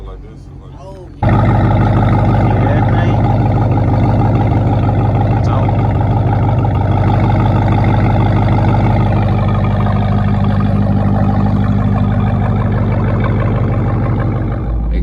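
Supercharged all-wheel-drive Jeep Trackhawk engine kicks in abruptly after a brief quiet start, then holds a loud, steady low rumble with a droning harmonic tone, recorded up close in the rain.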